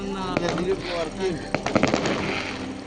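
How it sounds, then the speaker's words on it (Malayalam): Small fireworks go off at a beach in Oman: a quick, irregular cluster of sharp pops and crackles, moderately close, with voices around them. "പെട്ടെന്ന് ചെറിയൊരു ഫയർ വർക്ക് കേട്ടോ ബീച്ചിൽ"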